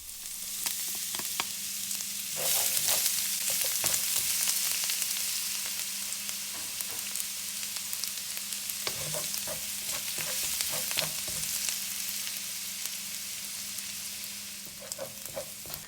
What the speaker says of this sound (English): Now we're going to add the garlic and fry until it's golden brown.